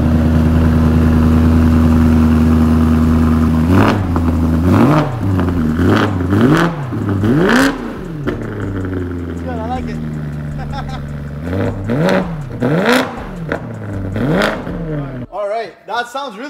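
A BMW E92 M3 V8 idles with a deep burble, then revs up repeatedly in sharp bursts, loud and close, with a throaty exhaust note.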